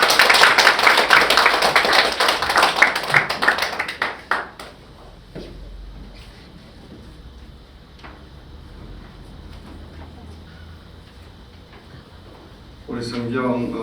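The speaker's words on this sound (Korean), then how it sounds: "박수로 환영하겠습니다." A church congregation claps loudly at a pastor's installation service in a Presbyterian church, dense applause for about four seconds that quickly dies away into a quiet room before a voice starts speaking near the end.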